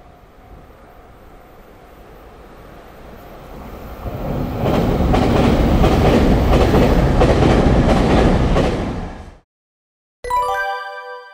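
A JR Kagoshima Line Limited Express Sonic train approaches and passes with a swelling, loud rush of rolling wheels and clickety-clack, then cuts off, followed by a brief tonal horn-like chime.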